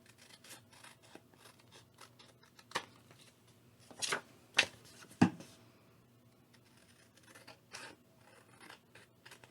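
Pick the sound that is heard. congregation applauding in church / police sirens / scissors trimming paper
scissors trimming paper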